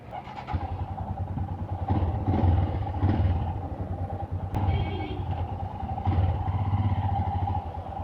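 Royal Enfield Himalayan motorcycle on a test ride, its single-cylinder engine thumping steadily close by with a low, continuous rumble and slight surges as the throttle opens.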